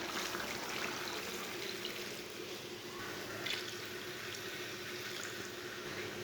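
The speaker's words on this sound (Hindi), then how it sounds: "अब 2 गिलास पानी डाल लेंगे।" Two glasses of water poured into a pan of frying mutton, a soft continuous splashing and hissing liquid sound, fairly faint and steady throughout, with no talking.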